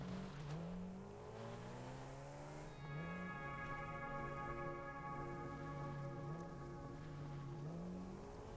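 An explorer vehicle in the video game Satisfactory drives along, its engine a faint, steady hum whose pitch rises and dips with throttle changes, continuous and alone without talk.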